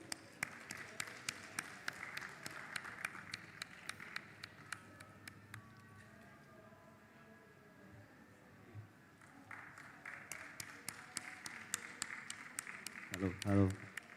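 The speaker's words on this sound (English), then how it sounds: "we can give them a round of applause" Scattered audience clapping at a conference technical session, loose and uneven, fades to near quiet midway, then picks up again before a heavy thump at the end.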